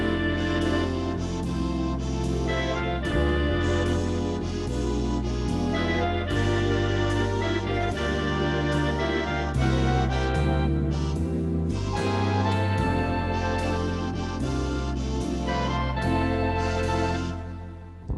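Home keyboard arranger playing a serenade-style backing rhythm: steady swing band accompaniment with bass, chords and soft drums, loud and continuous for about seventeen seconds before fading at the end.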